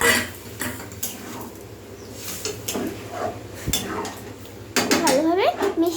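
A spoon clanks and scrapes against a metal pot while a khichuri mixture of rice, lentils and water is stirred, with irregular close knocks and a louder burst of clattering near the end.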